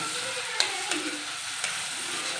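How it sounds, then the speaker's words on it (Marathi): A ground paste of coconut, garlic, ginger and onion fries in oil with a low continuous sizzle, broken by a few light clicks of a spoon stirring against the pan, with no speech. "छान परतून घेऊया वाटण छान तेल सुटेपर्यंत छान परतून घेतलं"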